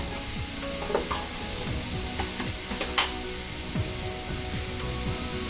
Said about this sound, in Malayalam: ഇത് നമ്മളിട്ട് വെജിറ്റബിളൊക്കെ ഒന്ന് സോട്ടായി വരുമ്പോൾ നമുക്കിതിലേക്ക് മസാല ചേർക്കാം